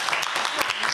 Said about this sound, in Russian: Всем аплодисменты.